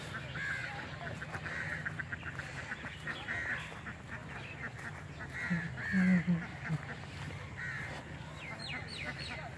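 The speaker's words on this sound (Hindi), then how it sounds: "बतखें जी यहाँ पे फिर रही हैं" Ducks quacking at Jallo Park in Lahore, with scattered calls over steady background noise and some talking.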